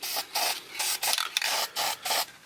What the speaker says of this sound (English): I'm going to spray some out in the air, make sure my tip's not clogged